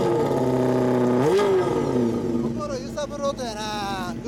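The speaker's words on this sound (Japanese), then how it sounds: "エンジンを聞かせてもらえる？" A 2016 Suzuki GSX1300R Hayabusa sport motorcycle with an aftermarket exhaust idles, then is blipped into a sharp rev that falls back to a steady idle, followed by further quick throttle blips, loud and close.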